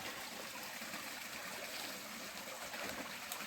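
Spring water from a hillside flows steadily past a decades-old tunnel, a continuous broadband rushing and trickling wash with no breaks, fairly close and moderately loud, with no voices.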